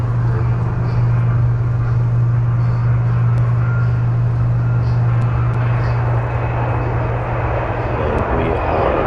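Virgin Orbit's Boeing 747 Cosmic Girl makes its takeoff run with a loud, steady jet engine roar and a strong low hum, constant throughout without a break, heard from close by.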